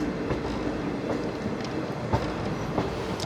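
Veraval–Rajkot passenger train moving onto the loop line at Keshod station, a steady low rumble of wagons with soft clicking of wheels over track joints throughout.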